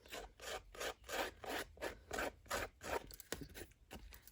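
Scissor blades scrape along the edges of a Tim Holtz Snapshots photo to distress it, a faint, close rhythm of about eight short rasping strokes in steady succession, then a few lighter scratches.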